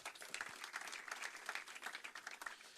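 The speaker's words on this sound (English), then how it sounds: "So a big round of applause for you as well." An audience aboard a ship at a floating book fair gives a round of applause, a steady patter of many hands clapping that sounds faint and somewhat distant throughout.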